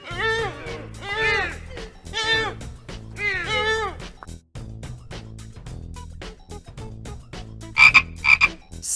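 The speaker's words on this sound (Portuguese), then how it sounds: "Sapo" A toad croaks in a series of loud, rapid, rattling calls, several bursts in a row, with a brief higher chirping at the end over a low steady background.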